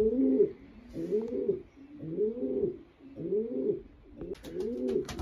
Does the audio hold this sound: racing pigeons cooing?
yes